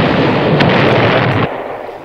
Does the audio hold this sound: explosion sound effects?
yes